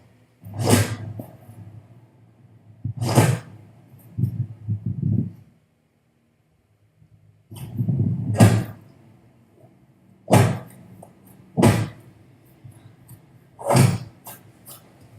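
Heavy thudding impacts land one after another with pauses between them, punchy and loud, like exaggerated cinematic punches with no talking.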